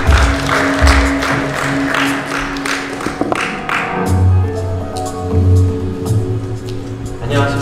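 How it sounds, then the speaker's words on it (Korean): Audience applause welcoming a presenter onto the stage at a Hyundai All New Nexo product launch, a steady wash of clapping from a large crowd under a sustained musical backdrop. "큰 박수로 환영해 주시기 바랍니다."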